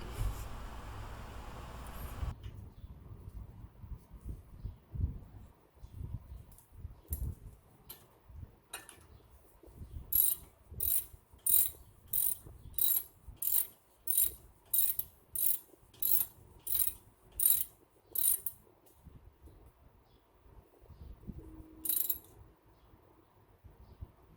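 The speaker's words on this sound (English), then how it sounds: "And to tighten the nut, the 13mm nut." A ratchet tightens the 13mm nut on a Lexus IS F front brake caliper during a brake pad change: after some handling noise, a quiet run of steady, evenly spaced clicking ratchet strokes, close up with no talking.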